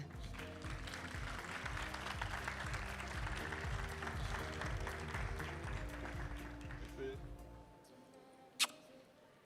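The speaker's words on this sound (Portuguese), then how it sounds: "Vamos receber com muitas palmas Rafael Zarf." Applause from a conference audience welcoming a speaker, a steady wash of clapping that fades out near the end, with a low musical bed underneath and a sharp tap just before silence.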